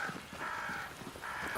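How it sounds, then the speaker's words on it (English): Crows caw in Banishers: Ghosts of New Eden, a few drawn-out harsh calls overlapping near a great tree, moderately distant and fairly quiet. "Crows. They flock to that great tree up there."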